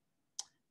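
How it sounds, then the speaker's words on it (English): A single crisp computer mouse click, short and quiet, standing alone against near silence. "So I'm going to right click on computers and I'm going to hit find, right?"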